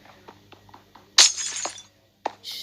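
In the Minecraft video game, a block breaks with a sharp glassy shatter after a few soft clicking taps, then a second brief crack follows, close and crisp.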